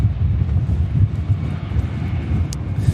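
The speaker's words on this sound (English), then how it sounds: "this is going to be our final departure. It's the Saudia Dreamliner heading to Jeddah." A Saudia Boeing Dreamliner departs Manchester Airport bound for Jeddah, its engines a steady low rumble with wind buffeting the microphone, heard from a distance and alone.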